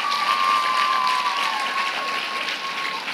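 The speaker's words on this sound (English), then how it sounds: "Can we get another round of applause for Dia's fantastic performance?" Audience applause at a primary school winter concert, dense steady clapping from a large crowd that holds loud for the whole stretch and eases slightly toward the end, with no talk over it.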